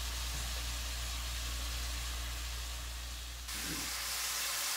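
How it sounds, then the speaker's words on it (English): Shrimp sizzle in a hot pan for fried rice, a steady broadband hiss with a brief shift in tone near the end, heard alone without speech. "Okay, our shrimp have been cooking for a couple of minutes now"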